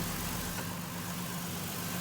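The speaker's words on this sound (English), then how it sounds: "Next what you want to do is turn the engine on," A Ford Ranger engine idles steadily with a low, even rumble and hum, close by and continuous, during a coolant flush.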